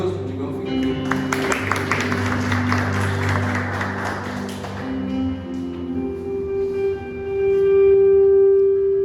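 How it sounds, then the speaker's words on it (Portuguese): A church congregation applauds with a burst of dense clapping over sustained music, then the clapping fades as the music carries on alone. "Aplaudam Mateus"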